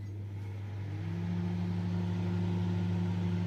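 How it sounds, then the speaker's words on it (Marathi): An oven preheats in convection mode at 160 degrees with a steady low electric hum and fan drone, alone and continuous, a tone shifting slightly as it settles and holds level. "आता आवण लावलेला आहे कन्व्हेक्शन मोडमध्ये आपल्याला एकशे साठ डिग्री फ्रीवरती आपल्याला ओव्हन गरम करून घ्यायचं आहे"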